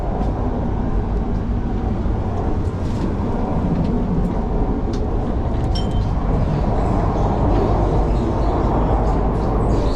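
Steady, loud rumble inside an intercity train running from Tanjung Malim to Kuala Lumpur, Malaysia, with a continuous low roar of wheels and carriage noise and faint rattles throughout.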